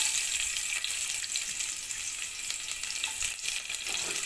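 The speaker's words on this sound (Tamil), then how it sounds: "நம்ம பாருங்கள் எடுத்து வச்ச வெங்காயத்தை நம்ம இப்போ எண்ணெயில் போட்டுடலாம்" Onions frying in hot oil for a mutton soup and mint chutney meal, giving a steady, close hiss of sizzling with faint stirring scrapes throughout, no talking.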